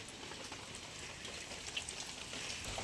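Steady rain falls outdoors during a village school event, a dense even patter of drops that holds at moderate loudness throughout with no voices.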